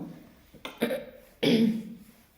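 Two rough bursts of coughing close up, the second longer and harsher, separated by a short pause in a quiet room.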